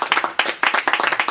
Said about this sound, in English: So, in third place, Mike, little round of applause.